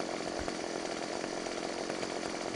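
A chainsaw in the video game Farming Simulator 17 drones continuously at a steady high rev, a buzzing, rasping whine held without pause, moderately quiet, with no talking.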